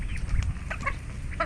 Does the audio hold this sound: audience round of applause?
no